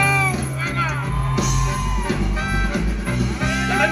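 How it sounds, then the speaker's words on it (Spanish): A live concert crowd at a show in Watsonville, California, lets out sustained Mexican grito yells and whoops, loud and dense, layered over music and an announcer's voice. "¡Salucita y un grito mexicano!"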